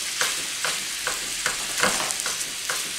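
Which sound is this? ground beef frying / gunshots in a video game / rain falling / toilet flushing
ground beef frying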